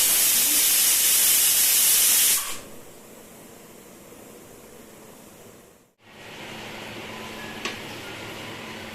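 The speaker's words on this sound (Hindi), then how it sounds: "दोस्तों ये दाल मेरी पक रही है" Dal boiling in a pot makes a steady broadband hiss like steam, loud at first, then dropping to a quieter simmering bubble with a faint click near the end.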